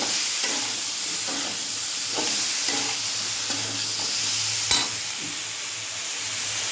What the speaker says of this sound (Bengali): এই যে দেখো চিংড়ি মাছটা দিয়ে দিলাম। দিয়ে একটু ভাজা ভাজা করবো